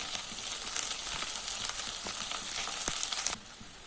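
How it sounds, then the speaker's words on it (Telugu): Curry leaves and chillies fry in oil as a tempering, giving an even, fairly quiet sizzle with small crackles. The sizzle drops away near the end. "కరివేపాకు ఎల్లుమిర్చి వేసి బాగా వేగనివ్వాలి"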